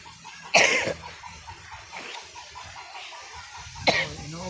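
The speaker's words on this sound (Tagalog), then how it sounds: "Yung videographer ko guys, inuubo." Two sharp coughs from a person outdoors in a cucumber garden on a cold day, one early and one near the end, separated by a quiet stretch of faint background sound.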